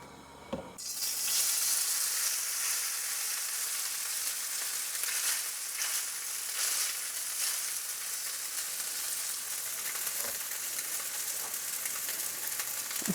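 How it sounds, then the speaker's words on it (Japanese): Oil sizzles steadily in a hot frying pan while yakisoba is being made, a loud, continuous hiss that starts abruptly and holds for over ten seconds, with a few sharper crackles. "熱したフライパンに油ちょっと多めに入れますね"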